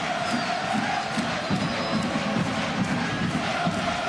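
Fans in a football stadium roar during an FC Dallas home-team corner kick against New England Revolution. The loud, continuous crowd cheer carries rhythmic chanting pulses throughout.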